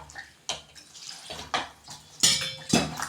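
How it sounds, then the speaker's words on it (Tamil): Water poured into a pot of vegetables seasoned with turmeric for sambar, a few uneven sloshing splashes in quick bursts, close and fairly loud. "இப்போ லைட்டாக தண்ணி ஊற்றணும்"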